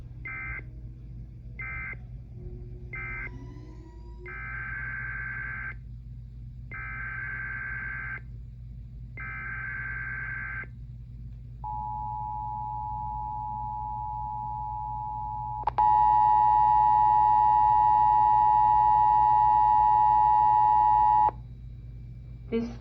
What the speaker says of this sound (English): The following tones will conclude this test of the emergency alert system.